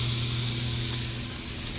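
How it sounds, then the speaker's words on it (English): Steady hissing sizzle of bacon frying in an electric pressure cooker, broadband and continuous with a low hum underneath, fairly close and even in level. "I just put in the bacon. I turned it on. You can hear it start to sizzling."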